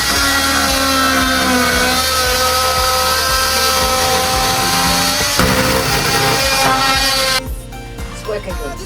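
An oscillating multi-tool buzzes loudly and steadily as it cuts a fuel well hole in a van body, a continuous harsh whine that shifts pitch partway through before dropping to a lighter rasp.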